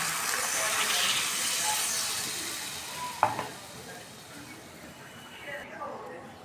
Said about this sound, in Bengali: গরম গরম পানি দিয়ে দিলাম